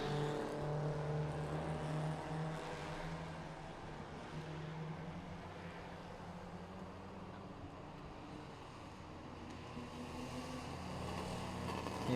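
Race cars from a Toyo Cup OK1 and OK2 event in Thailand rolling around the circuit on a two-lap formation lap, a steady, loud mix of engine drone and low rumbling that holds throughout without talk.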